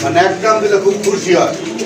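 Giribaz pigeons at a pigeon sale coo in low, rolling murmurs that run steadily through the moment, close by, with voices mixed in among the birds.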